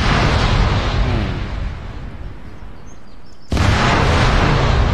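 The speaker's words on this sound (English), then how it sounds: "Detonate helos when ready" Explosive charges detonating helicopters in the military video game Arma 3: a loud booming blast rumbles and decays, then a second sharp, powerful detonation bursts in abruptly and roars on at full strength.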